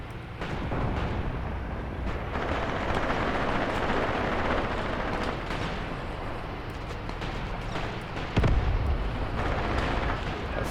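A firefight breaks out in a forest in the war game Graviteam Tactics Mius: scattered gunshots and heavier blasts crackle over a constant rumbling din, with one loud, close bang near the end.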